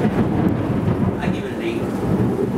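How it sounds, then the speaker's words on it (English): Thunderstorm with a steady low rumble of thunder and rain filling the background, loud and continuous throughout with no clear speech. "Like you can hear in the background, we have a major thunderstorm right now."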